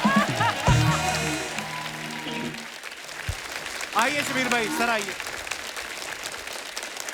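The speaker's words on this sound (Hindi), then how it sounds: "जोरदार तालियां हो जाए एक बार शबीर भाई के लिए" Studio audience applause on The Kapil Sharma Show rises beneath a voice inviting a guest forward, the clapping swelling and fading behind the talk.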